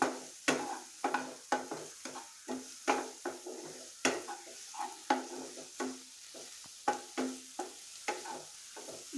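Ingredients fry on low heat in a pan for homemade pasta, with a soft sizzle under rhythmic, regular spoon scrapes against the pan about once a second, close and without talking.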